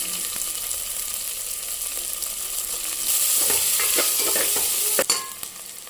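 Onion fries in oil in a pan for pongal with steady sizzling, and it grows louder midway as more goes in, with a few spoon scrapes and clatters near the end.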